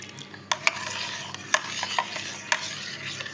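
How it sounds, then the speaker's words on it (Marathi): Jaggery being stirred into a pot while making sheera with coconut milk, with several sharp spoon scrapes and clinks against the pot over a soft background sizzle, close and fairly quiet. "आता आपण त्यात टाकूया, ते एकदा ढवळून घेऊया आधी."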